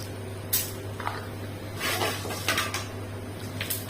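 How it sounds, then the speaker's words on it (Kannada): Mustard seeds spluttering in hot oil in a home kitchen, popping in scattered sharp crackles and short hissing bursts over a steady low hum. "ಸಾಸಿವೆ ಚಟಪಟ ಹೇಳ್ತಾ ಉಂಟು"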